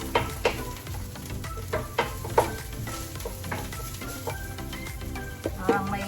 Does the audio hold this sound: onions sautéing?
yes